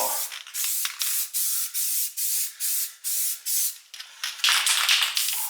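Short bursts from a spray can coat GM 8.2 10-bolt rear axle parts from a 1968 GTO, about eight hissing sprays in a fairly even rhythm, close and loud, followed by a longer burst.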